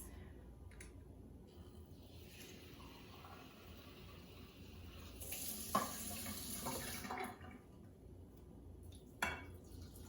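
Tap water runs and is poured into a liquid measuring cup at a kitchen sink, a steady moderate stream that swells for a couple of seconds in the middle, with light clinks of kitchenware.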